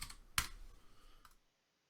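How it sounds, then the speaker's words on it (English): Quick typing on a computer keyboard gives a handful of soft clicks, one sharper keystroke and a few faint taps, close by and quiet, then silence. "we're just going to simply type the word mods"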